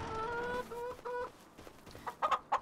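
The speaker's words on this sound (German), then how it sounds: "Und unsere Hühner, also wir haben ja jetzt Hühner," Chickens on a farm in Farming Simulator 25 cluck close by, a few repeated tonal calls early on followed by short choppy clucks near the end, with no talk over them.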